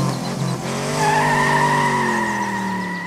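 A car skids with a loud, sustained tire squeal that rises and holds for a couple of seconds over engine noise, with no talking.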